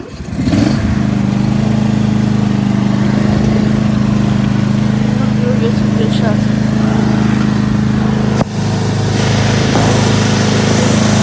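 A leaf bagger machine running during a leaf clean-up, a loud steady engine hum close by that holds constant for the whole stretch with a brief dip near the end.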